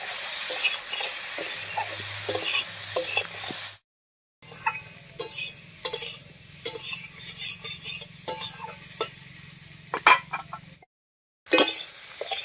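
Pieces of taro with slit green chillies fry in a little oil while a spoon stirs and scrapes the pan, with soft sizzling and intermittent clinks, broken by two brief silent gaps.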